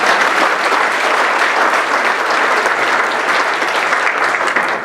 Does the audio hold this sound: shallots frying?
no